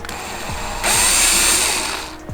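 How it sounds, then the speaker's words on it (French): A power drill bores a hole in a garden bench: a short, loud, steady whine runs for about a second and a half, with a few faint knocks before and after. "on va le percer ici"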